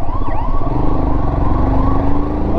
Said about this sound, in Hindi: भैया साइड दे दो एम्बुलेंस आ रही है पीछे